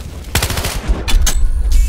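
Rapid automatic gunfire from the Battlefield Hardline video game, loud, in several close bursts, with a couple of sharper single shots toward the end.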